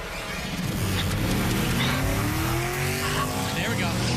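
A $100,000 Camaro and a showroom Porsche launch side by side in a drag race, engines roaring loud and rising in pitch through the gears, with tire squeal and a voice talking over the din.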